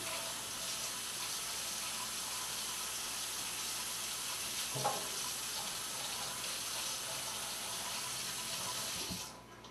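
Vegetables being washed under a running kitchen tap, a steady faint hiss and splash of flowing water with a couple of brief knocks, cutting off just before the end.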